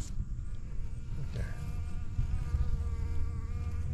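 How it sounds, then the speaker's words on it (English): A honeybee buzzes close by near a beekeeping setup with wax and honey, a steady droning hum over a low background rumble. "Got a honeybee."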